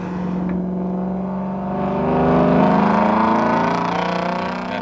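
A Ford Mustang engine revs upward, its tone climbing and swelling in loudness toward the middle before easing slightly, heard close and alone with no talking.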